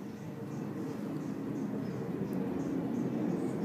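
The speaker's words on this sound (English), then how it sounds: "hear the airplane go by?" An airplane passing somewhere overhead, heard as a faint, steady broadband rumble that holds evenly for a few seconds with no other clear sounds.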